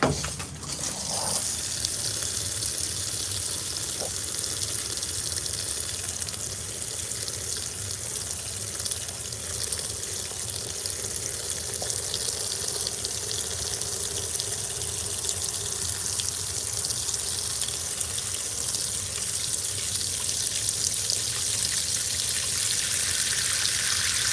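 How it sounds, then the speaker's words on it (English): Water runs in a shower to soak food, a steady close hiss and splash that holds without a break. "I usually have to come down here and run more water"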